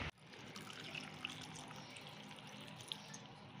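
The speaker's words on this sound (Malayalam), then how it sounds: "ഇനി ആവശ്യത്തിനുള്ള വെള്ളം ഒഴിച്ചു കൊടുക്കാം." Water poured into a pot while making kalan, a Kerala sadya curry: a quiet, steady trickling stream that runs evenly after a brief opening thump, with no voices.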